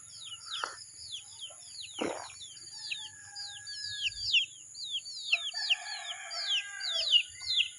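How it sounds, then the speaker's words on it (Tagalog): Chickens cluck and squawk intermittently nearby while many small birds chirp in rapid, repeated calls throughout. "parang may problema yung aking manok ah"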